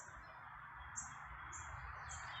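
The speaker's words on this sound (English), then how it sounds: "for the birds that sing" Birds sing in short, repeated high chirps over a steady hum of distant traffic, the calls faint and spaced apart with no voices present.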